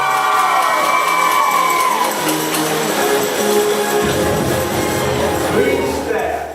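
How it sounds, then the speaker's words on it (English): Elementary school children at a convocation cheering loudly together, a dense sustained roar of shouts and whoops from a large crowd, with an adult voice speaking briefly over the start. "let me hear you cheer!"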